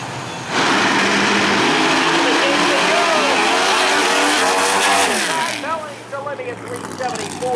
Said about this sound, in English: That 68 Chevrolet Camaro is ready to try to take down one of the best.